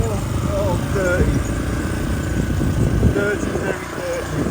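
A dirty, under-oiled chain on a Kawasaki KLX 150 motorcycle gives off short repeated squeaks over the rumble of the running bike during a street ride, while someone talks close by.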